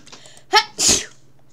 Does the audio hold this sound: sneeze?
yes